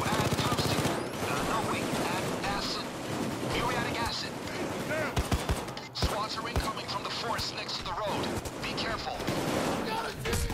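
Sentry gun fire in the video game Payday 2 on a ranch heist: a dense run of rapid shots mixed with other game combat noise, continuous and loud, under a player's talk.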